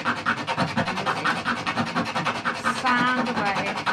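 A paper cartouche's corners are rubbed against a sheet of sandpaper pinned down on a mat-covered table, giving quick rhythmic rasping strokes that are close and repeated steadily throughout.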